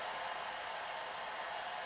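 A heating tool melting plastic for a repair blows with an even, loud hiss and whoosh, steady and close from start to finish with no voices.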